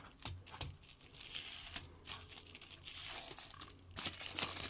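Plastic wrapping being peeled and crinkled off the packaging of a rosewood and ziricote cigar humidor, a steady close-up rustle with a few sharper tearing bursts.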